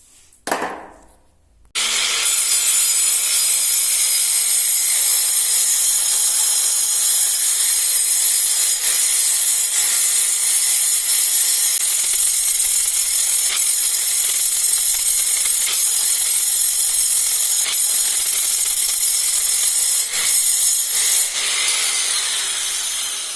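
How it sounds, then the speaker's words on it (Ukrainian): A small chisel gouges a channel into a wall for a Geberit installation frame, giving a steady, loud, continuous hissing scrape that runs almost unbroken for over twenty seconds after a brief opening sound. "Далі беру таку стамесочку і потихеньку ковиряю"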